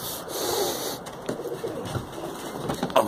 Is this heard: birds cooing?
yes